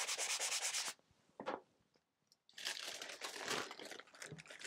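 Rough, scratchy strokes of drywall being sanded rasp in bursts, close up, with a brief pause of near silence before the rubbing resumes.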